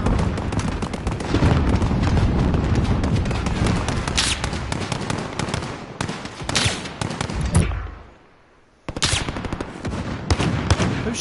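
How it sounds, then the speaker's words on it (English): Gunfire in a Call of Duty match, rapid bursts of close automatic weapon fire and sharp shots filling most of the stretch, cutting out briefly near the end before another burst resumes. "Who's shooting at me?"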